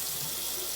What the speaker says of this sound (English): Run it under cold water and make sure you get everything off.